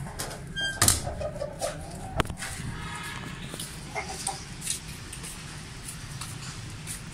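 Mianwali Aseel chickens cluck intermittently in a rooftop coop, with a few sharp knocks and a louder burst early on, all over a constant low background hiss.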